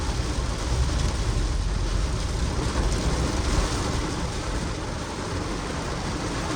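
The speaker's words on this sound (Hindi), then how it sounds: "एकदम से इतनी जोर से बारिश आएगी ये तो मैंने भी नहीं सोचा था" Heavy rain pours down while driving in near-zero visibility, a loud, steady broadband roar of downpour on the car that continues unbroken from start to finish.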